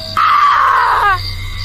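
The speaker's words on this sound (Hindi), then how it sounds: "चुड़ैल चीख उठी।" A witch lets out a single loud, drawn-out shriek that rises sharply, holds for about a second and then breaks off into a quieter background drone.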